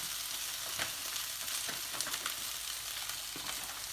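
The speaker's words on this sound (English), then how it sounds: "Just going to stir fry that." Cooked rice stir fries for Thai fried rice in a hot pan, a bright continuous sizzle with repeated scraping and tossing strokes of the spatula, close and loud, no speech.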